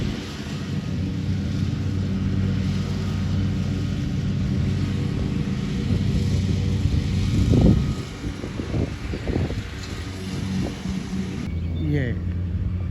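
A small lawn-mowing tractor cuts grass beside a road in America, its engine a steady droning rumble heard from a short distance, with a voice briefly talking over it midway.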